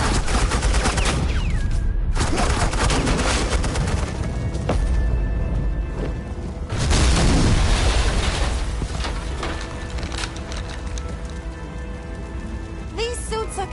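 Sustained gunfire in the game Batman: The Enemy Within, loud, dense rattling volleys with booming impacts, briefly breaking off and resuming before tapering into scattered shots.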